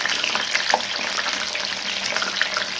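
Brinjal slices for bajji fry in hot oil, a continuous close crackling sizzle with scattered sharp pops throughout and no talking.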